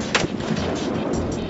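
A single loud, close blast from a Barrett M82 sniper rifle on an outdoor range, with a sharp crack at the start followed by a rolling boom that fills the rest of the moment.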